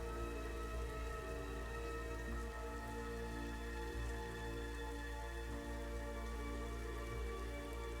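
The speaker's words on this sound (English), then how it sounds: "The rain falls harder." Soft, steady rain falls as an ambience effect for a fantasy tabletop role-playing scene by a river, a faint continuous patter layered over a sustained low tonal drone, with no voices.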